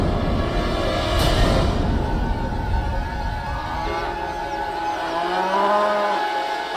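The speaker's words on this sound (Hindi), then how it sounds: "ये तो हमारी गौओं का रंभाने का स्वर है।" Cows mooing, the domestic herd's long low calls rising and falling one after another over a steady background bed, with no talking.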